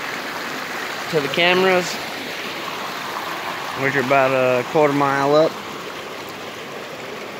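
A mountain stream flows steadily beside a steep hiking trail, a constant broadband rush of water filling the background while someone talks intermittently over it.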